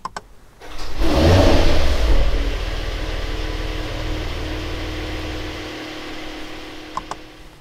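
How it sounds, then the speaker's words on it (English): A 2022 Mercedes-AMG GLE 53 Coupe with HOFELE styling cranks and fires up with a loud starting roar and rev, then settles into a steady low idle, heard close with nothing else over it. "So let me start the engine and you will listen to the sound"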